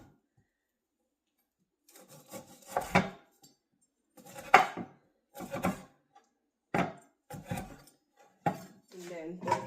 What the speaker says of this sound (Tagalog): And also the ginger, I always include the skin. So let's just chop this.